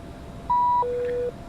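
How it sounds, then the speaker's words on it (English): Two-tone datalink chime in a Challenger 650 cockpit simulated in X-Plane 12: a clean higher beep followed by a slightly longer lower tone, alone over faint cabin hum. "It'll beep."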